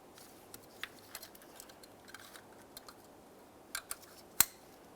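Fuel injector and ignition coil connectors on a 2003-2011 Mercury Grand Marquis engine click into place one after another: a sparse run of faint, small plastic clicks ending in one sharper, louder snap, with no talking.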